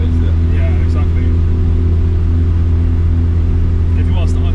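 A Toyota MR2 fitted with a swapped 2ZZ engine runs with a loud, steady low rumble, a constant engine drone rather than distinct revs, while people talk over it.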